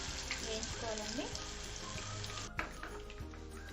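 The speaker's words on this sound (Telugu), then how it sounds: "మీడియం ఫ్లేమ్లో పెట్టుకొని వేయించుకోవాలండి." Chicken 65 pieces coated in rice flour deep frying in oil over a medium flame, a steady close crackling sizzle with bubbling and a brief clatter partway through.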